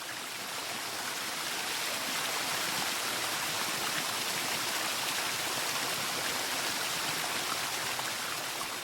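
Water pours steadily into a bay in the Ebro delta, fed by an irrigation community's rice-field water system, a dense continuous rushing wash with no pauses or voices.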